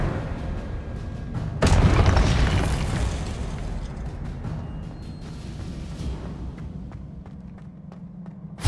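An Expelliarmus spell effect from Hogwarts Legacy bursts out as a sudden booming blast, then decays into a rumbling wash with scattered pops and light footstep-like ticks.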